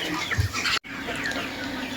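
Chickens cluck in a short low burst near the start, with steady farmyard background noise and a brief cut partway through.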